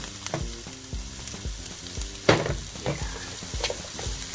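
Onions and vegetables sauté in a pan with a steady close sizzle, broken by the clinks and scrapes of stirring and one sharper clatter midway.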